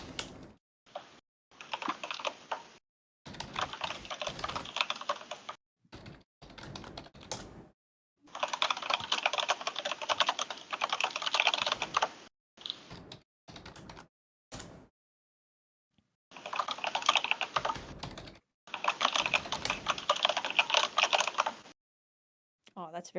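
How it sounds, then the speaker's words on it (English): A computer keyboard clacks in long, rapid bursts of typing, separated by short pauses and isolated keystrokes. The sound is close, crisp and fairly quiet, with no talking. "Oh, that's very pleasing clacking noises."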